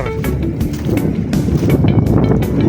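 Strong wind by the sea rumbles and buffets against the microphone in a constant low roar, with faint gusty swells throughout.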